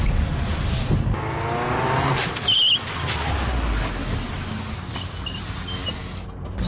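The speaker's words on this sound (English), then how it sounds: "I'm going to accelerate, first gear, second gear, clutch in, jump on the brakes. I'm going to try to turn the steering wheel." A car braking hard and skidding while the driver steers during a loss-of-control exercise, a loud continuous rushing tire-and-engine roar with a brief sharp squeal midway, close by.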